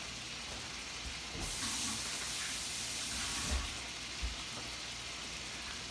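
Tap water runs steadily in a kitchen as hands are rinsed during the cooking of a Moroccan meatball and egg tagine. A continuous, moderately loud hiss swells slightly midway, with a couple of soft knocks, and no voices.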